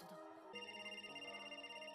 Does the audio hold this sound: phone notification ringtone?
yes